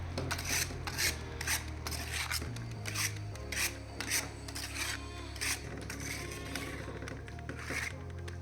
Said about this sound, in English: The wooden mortar plunges the chunks,